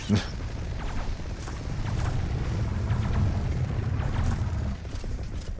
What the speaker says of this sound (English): The explosions really are making it hard to see anything.